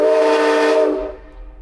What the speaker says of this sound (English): hear the big train horn